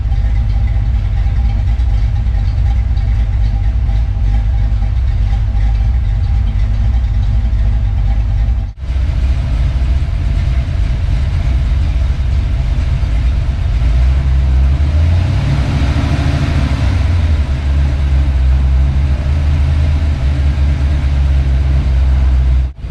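A car engine idles steadily with a low, even rumble while waiting to idle up during a throttle-body fault check. It drops out briefly around the nine-second mark, then swells a little in the middle before settling again.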